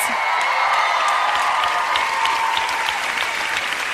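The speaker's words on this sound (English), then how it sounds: "a massive big round of applause for Ricky, please." A TV studio audience at a results show claps and cheers loudly and continuously, with whoops and a sustained high tone riding over the dense applause.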